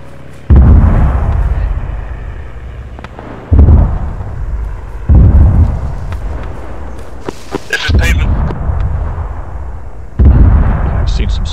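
Five heavy, loud explosions from rocket or air strikes in Arma 3, each a sharp booming impact with a long rumbling tail, spaced a few seconds apart, with scattered distant gunshots in between.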